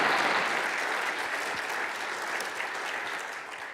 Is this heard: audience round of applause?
yes